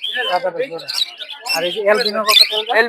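King quails and other caged birds chirp and squawk in bursts at a village bird market in Narsingdi. The calls are close and lively, and someone talks loudly over them the whole time.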